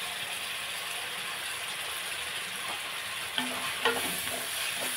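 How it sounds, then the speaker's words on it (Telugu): Cumin and coriander powder stirred into a frying pan with plantain pieces, giving a constant low sizzle with a couple of sharper scrapes and clinks of the utensil near the end. "ఈ 2 నిమిషాలు కూడా బాగా కలిపేసుకుని 2 నిమిషాలు మగ్గించుకుందాం"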